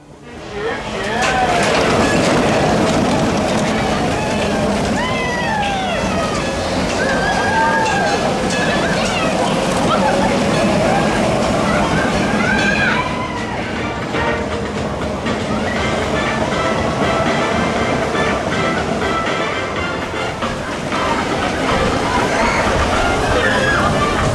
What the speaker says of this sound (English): we walked straight onto the Runaway Mine Train there